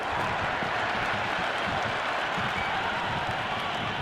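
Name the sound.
cricket stadium crowd cheering after a boundary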